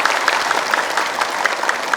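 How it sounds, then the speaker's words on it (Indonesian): A studio audience at an Islamic sermon program claps after a rhyming verse, a brisk, even round of applause with a faintly pulsing rhythm. "Cakep, tepuk tangan"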